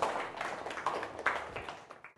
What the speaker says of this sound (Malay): Beri tepukan kepada kumpulan Baby Gas